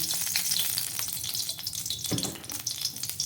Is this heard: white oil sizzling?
yes